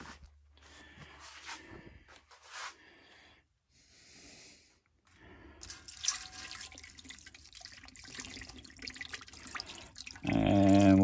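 Red-dyed stabilizing resin is poured from a container over wood pen blanks: scattered handling clicks and rustles, then a continuous liquid trickle and splash that grows louder toward the end, close up and with no talking.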